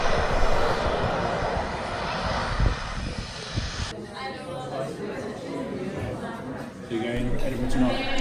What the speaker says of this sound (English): After a while I saw an aircraft on final approach to the beach.